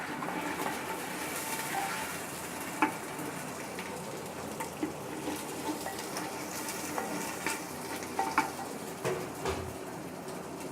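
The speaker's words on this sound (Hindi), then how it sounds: "चम्मच हिला लेंगे" Onions with ginger-garlic paste frying in a pan for aloo gobhi, a steady sizzle under occasional spoon scrapes and soft clinks, fairly close and even throughout.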